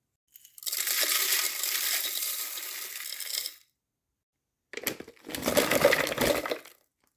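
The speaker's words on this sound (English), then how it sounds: "I'm just going to be blitzing those ever so slightly in the food processor just to break them up." A food processor blitzes walnuts in two short bursts, each a loud, close whirring grind that cuts off abruptly, separated by a brief silence, with no talking.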